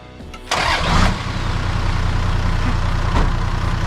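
A Toyota Land Cruiser 80 Series truck engine, newly repaired after being blown, cranks briefly and then catches, revving up loudly before settling into a steady, rumbling idle close by.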